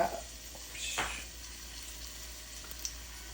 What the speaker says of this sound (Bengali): এখন আমি মিষ্টি কুমড়াগুলিকে ভেজে নেব।